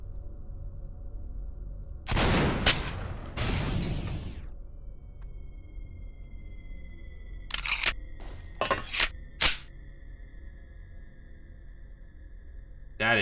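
Heavy cannon firing in the video game XCOM: two loud broadband blasts close together, followed after a pause by a rapid cluster of four sharp shots, with a faint lingering whine between.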